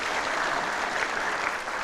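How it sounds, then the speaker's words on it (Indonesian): Audience at an Indonesian TV talent show applauding the jury, a continuous even wash of clapping from a large crowd, steady and moderately loud with no break. "kita berikan tepuk tangan buat juri kita"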